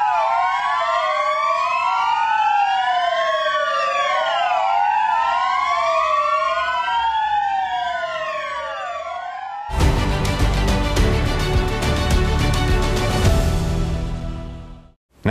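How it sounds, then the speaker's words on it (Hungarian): Police sirens wail in tribute to a fallen colleague after a minute of silence, loud overlapping rising and falling tones that cut abruptly into broadband noise and music, with no talk. "majd sziréna szóval emlékeztek kollégájukra az egyenruhások."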